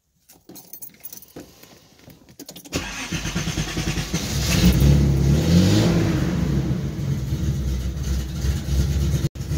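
Keys jangle briefly, then a car engine starts and revs as the car pulls away and accelerates, the engine rising loud and close before steadying.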